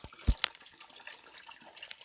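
Water flowing and splashing at Mahakaleshwar temple, with one sharp close splash near the start over a faint, continuous trickle that runs on quietly.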